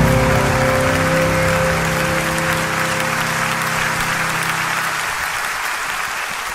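A large audience applauds at the live recording of a song. Dense, loud clapping runs over a fading held music chord and slowly tapers off.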